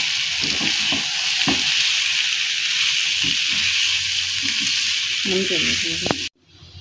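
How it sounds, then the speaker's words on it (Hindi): Boiled, cut potato pieces are stirred into masala frying in a pan: a continuous loud sizzle with scraping, clattering stir strokes, ending abruptly near the close. "बॉयल आलू जो हमने कर लिए थे ना और जिनकी कटिंग कर ली थी वो इसमें शामिल कर देंगे और अच्छे से आलूओं को इसमें चला लेंगे"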